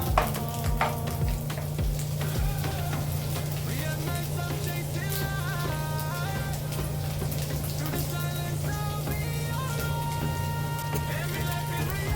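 Ingredients fry in a pan for pancit canton with a continuous crackling sizzle beneath a steady hum, while music plays along in the background throughout.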